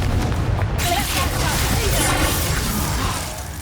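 Confringo spell explosion in the video game Hogwarts Legacy, a heavy, rumbling blast that swells at once and then rolls on before slowly fading, with battle noise underneath.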